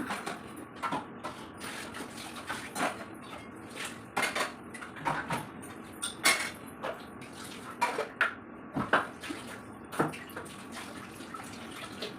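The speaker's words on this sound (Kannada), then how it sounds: "ಎಲ್ಲ ಪಾತ್ರೆಗಳನ್ನೆಲ್ಲ ತೊಳ್ಕೊಂಡು" Dishes and utensils washed at a kitchen sink: running water with irregular clatter and clinks of metal pots and cutlery, moderately close, no voices.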